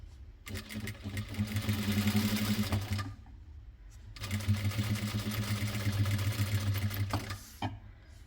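A sewing machine stitches fabric pieces for a homemade placemat in two sustained runs of close, loud, rhythmic whirring, separated by a short pause, with no talking.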